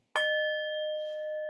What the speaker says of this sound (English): I'm going to welcome you with our bell today.